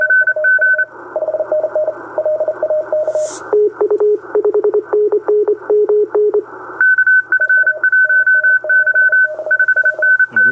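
Several Morse code tones on a radio, one higher-pitched and one lower, keying short and long beeps in overlapping rhythms against a faint steady hum.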